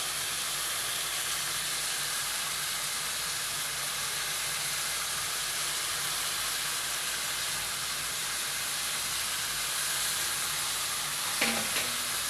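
Tengra fish frying in a pan with tomato, ginger and garlic paste makes a soft, continuous sizzle and hiss, fairly faint and steady, with a brief clatter near the end.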